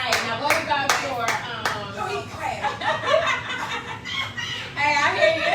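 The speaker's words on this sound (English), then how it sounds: "we got somebody in the audience that's clapping" A single audience member at a talk show clapping, sharp hand claps in quick bursts near the start and then scattered claps mixed with laughter and talk.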